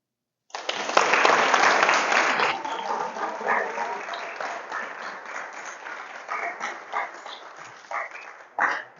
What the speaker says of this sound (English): let's give another round of applause to Mark Donaldson